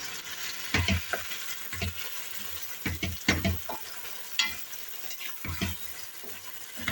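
Diced tomatoes sizzle steadily in a pan while a utensil stirs and scrapes in repeated bursts, close and moderately loud, with no talking.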